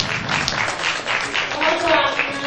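Audience clapping for young actors after a performance at a theatre, a dense sustained patter of many hands that swells slightly near the end.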